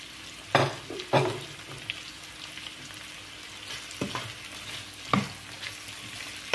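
Bell pepper and spring onion frying in a pan, a low continuous sizzle punctuated by several sharp scrapes and knocks of a stirring utensil, close up with no speech.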